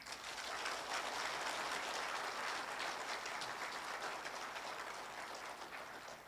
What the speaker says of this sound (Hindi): अगर yes है तो जोर से ताली हो जाए।